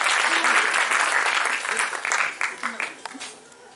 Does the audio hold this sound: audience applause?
yes